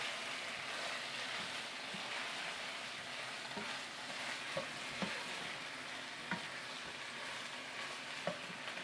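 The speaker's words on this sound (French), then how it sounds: "je suis en train de sauter la viande" Meat sautéing in a pan for homemade kebab gives a steady, low sizzle with soft stirring and a few faint clicks of utensil against pan, fairly quiet and continuous.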